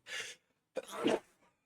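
A person sneezes twice in a quick, close pair: a short breathy burst, a brief pause, then a fuller, louder sneeze.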